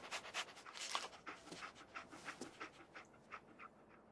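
Dogmeat, the dog companion in the Fallout 4 video game, pants steadily in quick rhythmic breaths, fairly close and alone with no talk over it.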